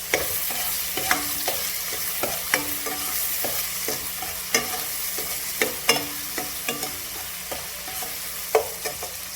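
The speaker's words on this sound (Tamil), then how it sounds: "இது கொஞ்சம் நல்லா வதங்கட்டும்." Food fries in oil in a pan with a steady soft sizzle, punctuated by regular sharp clicks and scrapes of a utensil stirring against the pan, close and alone with no talk.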